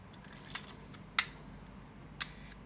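Camera shutter clicks sharply open, then after about a second closes with another crisp click; a faint earlier tick precedes them in a quiet room.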